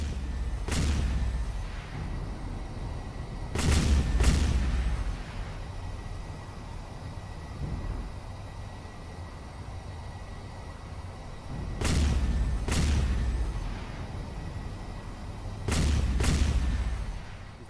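Warship artillery salvos from a naval battle in the strategy game Clash of Empire boom out in paired, heavy blasts, with several volleys spaced a few seconds apart over a steady rumbling background.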